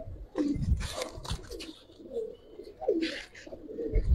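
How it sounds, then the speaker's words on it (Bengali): A silver Giribaj pigeon coos in several soft, low, rounded calls spaced over a few seconds, close by, with some faint background noise. "একটা সিলভার প্যানের কবুতর"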